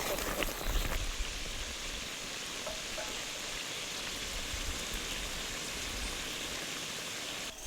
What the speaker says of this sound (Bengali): আর ঝোলগুলো কিন্তু টকবক করে ফুটছে পটল পোস্ত